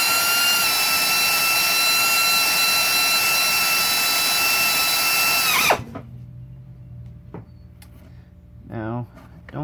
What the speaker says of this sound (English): I'm drilling them to a number 40 to begin with